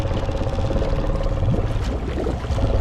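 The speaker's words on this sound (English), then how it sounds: "if I give it a little bit of gas in 5th gear, that should kind of bog it down" A Honda Rubicon 520 ATV engine bogs down in 5th gear, giving a low, labouring drone that stays close and steady and wavers in pitch as it strains.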